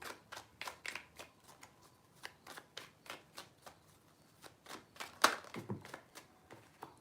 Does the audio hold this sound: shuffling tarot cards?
yes